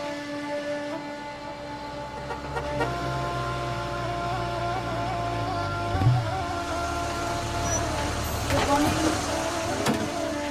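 A vehicle drives into the Gir forest in India, its engine a steady droning hum with occasional rattles and bumps throughout.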